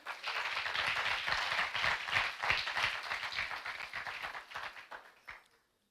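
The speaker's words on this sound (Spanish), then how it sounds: "Dele palmas al Rey de la Gloria." A church congregation claps together in a lively, dense burst of applause that runs for several seconds at a steady level, then tapers off quickly into quiet.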